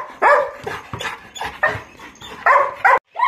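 A dog barks near a house in a run of loud, close, sharp barks and yips, several in quick bursts with brief pauses between them, with no talk.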